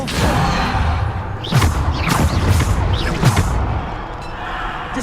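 Depulso spell cast in Hogwarts Legacy on PS5, heard as a run of sweeping magical whooshes with heavy thuds and booms, several bursts in quick succession over a low rumble.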